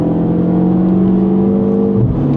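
A Mini car accelerating under throttle with some wheel spin, a loud steady engine drone with rising whine held close throughout, pitch dipping briefly near the end.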